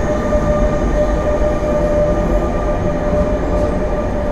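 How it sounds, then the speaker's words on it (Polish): Long-distance trains rumble past beneath a TLK Karkonosze sleeper car, a loud, continuous rolling roar with a steady tonal whine from the rails and wheels, heard from inside the carriage. "Tutaj słychać właśnie pode mną pociągi dalekobieżne jadą"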